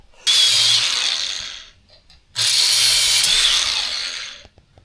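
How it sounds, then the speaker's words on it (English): An angle grinder cuts through metal sheet on a bunker build in two loud, close bursts of high-pitched whining and grinding, separated by a short pause as the blade spins down. "So that's why we use angle grinder instead of tin snips."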